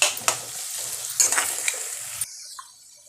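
Onion frying in a pan, stirred with a utensil: crackling sizzle with scraping strokes for about two seconds, then cutting to near silence with a faint clink.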